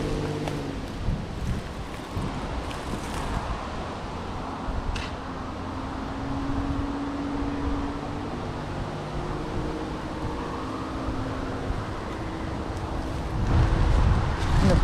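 Steady wind blows beside a roadside creek, a broad continuous rush with low gusty buffeting on the microphone that swells louder near the end, with no talking.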